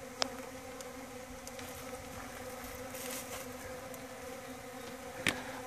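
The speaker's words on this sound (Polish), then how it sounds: "te pszczoły mieszkają w takich otworach" Solitary bees buzz steadily close by around a nest house, a continuous droning hum with a couple of sharp clicks, and no voices.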